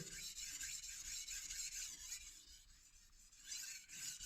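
A knife is sharpened on one side on a Naniwa Chosera whetstone, a faint, quiet grinding hiss of steel rubbing on stone in repeated strokes, with no voices.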